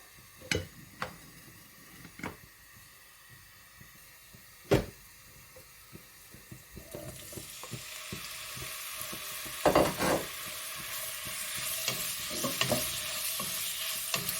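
Meat goes into hot vegetable oil in a pan after a few sharp clicks and taps, then a hissing sizzle rises and holds steady, loud and close, with no talking.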